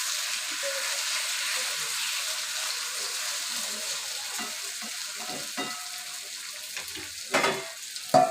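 Eggplant and potato sizzle steadily in a pan without any water, a continuous close frying hiss with a couple of stirring clatters near the end.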